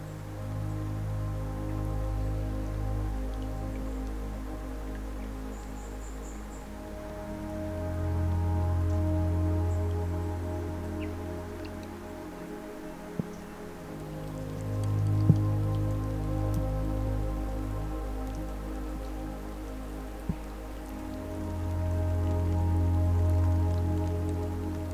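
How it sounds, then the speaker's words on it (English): Steady rain falling outdoors on a hiking trip, a continuous soft hiss of drops on surfaces with a low rumbling background that swells and fades, and a few faint isolated taps. "Well, the rain's back."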